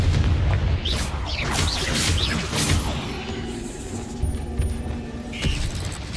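A Confringo explosion spell goes off in the video game Hogwarts Legacy, with deep, booming blasts set within a dense, loud wash of continuous game sound.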